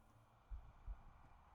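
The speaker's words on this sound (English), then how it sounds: "I really don't like the heartbeat sound." Bassy heartbeat effect in Black Ops 4, heard faintly: two deep thumps about a third of a second apart over a quiet low hum, with no talk.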